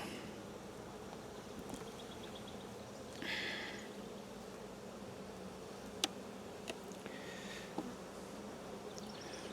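Honey bees buzz in a steady low hum around an open hive during a June inspection, with brief higher whines from individual bees passing close and a few faint clicks and handling sounds.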